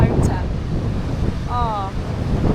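Sea waves wash onto the shore in a hometown seaside setting, a continuous surf wash mixed with heavy wind rumble on the microphone, and a short vocal sound cuts in midway.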